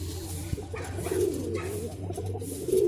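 Pet pigeons coo nearby in soft, low repeated rolling calls over a faint background murmur, with one sharp tap early on.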